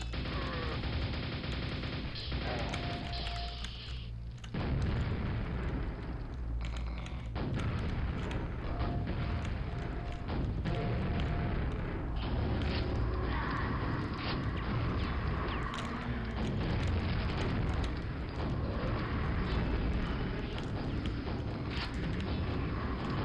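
Rocket explosions and mechanical game noise in Quake 1 Nightmare mode, Dissolution of Eternity, loud and dense with repeated booms and clanks running throughout, no voices.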